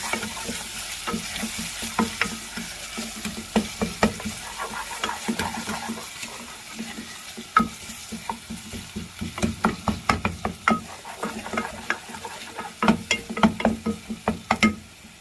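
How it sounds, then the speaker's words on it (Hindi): Steady sizzling of chopped garlic and ginger frying in a pan, with frequent scraping stirs and clinks growing busier toward the end. "अब इसमें पिसा हुआ लहसुन और अदरक ऐड कर रही हूँ। ऐड करने के बाद 1 मिनट तक इसको भूनेंगे।"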